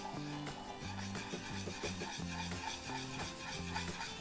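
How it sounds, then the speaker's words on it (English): Spoon stirring turkey in horseradish sauce in a pot, a soft continuous scraping and swishing with a faint sizzle, steady and close. "So I'm just gonna keep adding and stirring."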